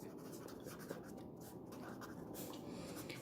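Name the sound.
writing on paper during a math lesson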